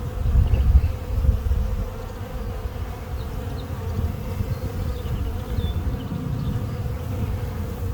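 A honey bee swarm caught on the ground drones near a hive box, with a dense, steady buzzing of many bees close by that holds evenly throughout.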